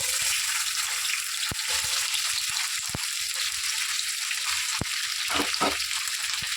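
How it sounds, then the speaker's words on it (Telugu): Ivy gourd pieces fry in oil left over from roasting peanuts, a continuous hiss of sizzling broken by a few sharp pops and light clicks of a spoon. "అదే నూనెలో దొండకాయ ముక్కలు వేసుకున్నామండి"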